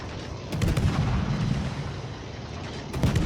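High-caliber naval gunfire in a warship battle game, a dense, booming roar of heavy shots with a few sharp cracks near the start and end, loud and sustained throughout.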